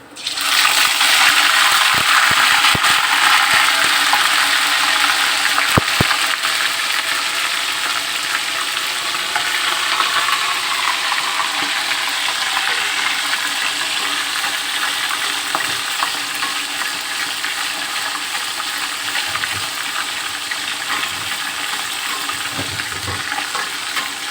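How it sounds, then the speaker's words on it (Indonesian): Grouper fish fries in hot oil with loud, continuous sizzling and crackling, steady throughout with occasional brief pops and clatter. "Sekarang kita goreng."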